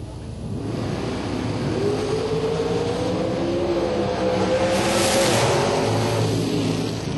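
An orange and blue dragster powers down the right lane of a drag strip at a bracket race, its engine a loud, sustained roar with a rising pitch that swells and peaks near the end, heard from fairly close.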